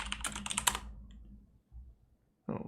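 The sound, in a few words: typing on a computer keyboard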